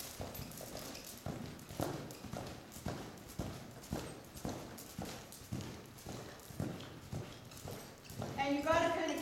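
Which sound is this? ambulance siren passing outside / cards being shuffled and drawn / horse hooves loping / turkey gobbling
horse hooves loping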